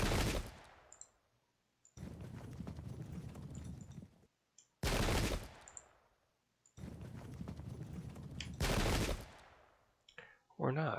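Musket volleys in a Pike and Shot battle between Parliamentarian and Cornish Royalist forces: several loud, broadband bursts of massed fire crack out in turn, separated by brief gaps, each trailing off into rattling, sustained crackle.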